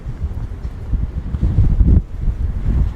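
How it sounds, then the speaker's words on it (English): Strong wind blows outdoors downtown Toronto on a cold evening, buffeting the microphone with loud, rumbling low gusts that swell and ease without pause. "Holy shit, it is windy."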